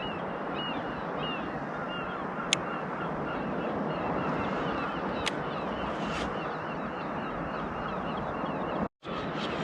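Seabirds calling over steady waves and wind at sea off Catterline on the North East Scotland coast, a continuous broad wash with faint bird cries, a couple of sharp clicks and a brief dropout near the end.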